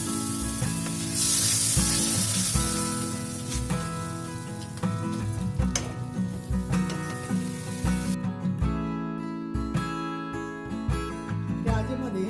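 Tomato paste with cashews sautés in a pan for a rajma masala curry, a continuous wet sizzle with spattering bursts, the frying mixed with steady background music.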